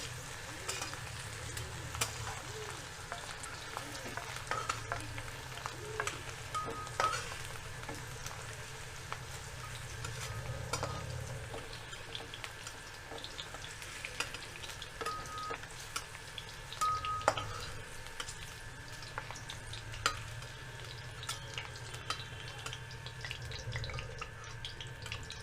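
Oil sizzles and crackles continuously in a pan at a fairly low, even level, with occasional clinks and small bursts of stirring, and no speech.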